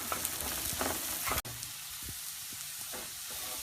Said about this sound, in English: So I've stirred my spices in.